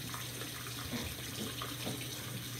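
Water runs steadily from a tap into a sink during a face-washing routine, a constant close hiss and splash with no break for under three seconds.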